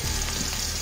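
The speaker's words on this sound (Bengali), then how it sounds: "তেলের মধ্যে আমি পেঁয়াজ কুচি দিয়ে দিলাম" Chopped onions dropped into hot frying oil already used for frying fish, a dense, loud, continuous sizzle close by and alone, lasting under a second.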